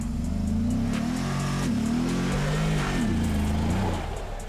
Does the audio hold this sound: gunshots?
no